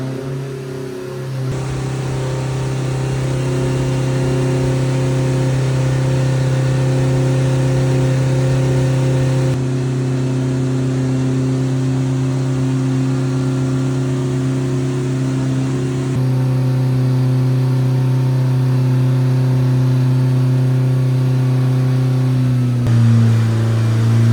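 Loud Polaris Thresher off-road vehicle engine running on a dyno steadily at high revs with a strong low drone, shifting pitch in stages as it holds and changes speed.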